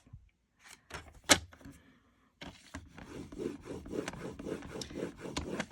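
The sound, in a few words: scoring cardstock paper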